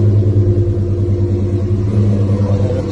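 A GMC SUV's engine runs with a deep, steady exhaust rumble, loud and close, holding a constant idle without any talk over it.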